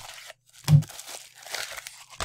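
Crinkly foil of a trading card pack wrapper being torn open in a few short, close rips and crunches.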